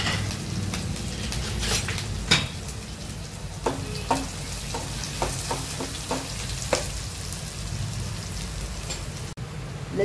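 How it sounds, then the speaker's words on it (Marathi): Chopped garlic and green chilies sautéing with asafoetida in a pan: continuous close sizzling and frying hiss, broken by occasional spoon scrapes and taps against the metal, with no voices. "लसूण हिरवी मिरची छान परतून झालंय"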